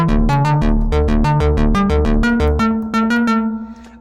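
Sampled synth bass with the mod wheel at the middle setting, a loud quick sequence of bright plucked notes with fuller, buzzier tops than the off setting, played in a steady rhythm that fades out at the end.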